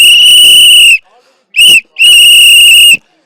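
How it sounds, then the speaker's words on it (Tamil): Loud, shrill whistles from fans gathered outside the TVK party office of actor Vijay: one long blast, a short chirp, then another long blast, with faint crowd noise between them. "ஆனால் கிராமத்தில் ஒவ்வொரு ஆளுக்கும் இந்த விசில் சத்தம் கேட்கும்."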